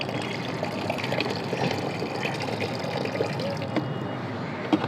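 Soaked onion-peel liquid poured onto a bottle gourd plant, a continuous close splashing trickle of water on soil and leaves, steady and moderately loud.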